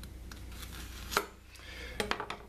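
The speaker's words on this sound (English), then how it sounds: "We're going to cut the ends off." Knife chopping through a plantain on a cutting board while trimming its ends, with two or three sharp cuts rising clearly above a low, steady background hum. Nobody speaks.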